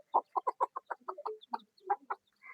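A hen clucks in short, close, evenly spaced soft calls beside her eleven newly hatched chicks, with a few thin higher peeps in between.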